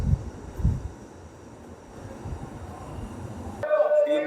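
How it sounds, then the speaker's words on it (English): Gusty wind blows outdoors on a street in Morocco, rumbling in uneven surges against the microphone while a person talks over it, ending with a brief burst of other background sound. "So it's kind of windy here."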